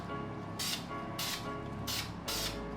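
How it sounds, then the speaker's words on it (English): An aerosol can sprays paint onto a dirt bike exhaust in four short hissing bursts, each under half a second, separated by brief pauses over a quiet hum. "now we can get to spraying with this bad boy"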